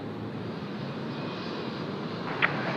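An airliner takes off at Sydney Airport, heard as a steady, broad engine roar at a distance, with one short higher-pitched burst near the end.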